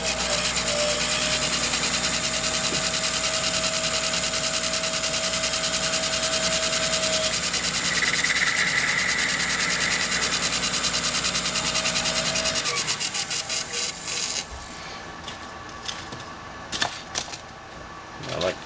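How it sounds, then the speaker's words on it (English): Tungsten carbide ferrule on a pool cue being faced off on a lathe after the epoxy has set: a steady, close whirring cut with a rasping buzz, then the machine winding down into clicks and handling noises. "now that our epoxy's pretty well set, we're going to go ahead and face it off and install this tip"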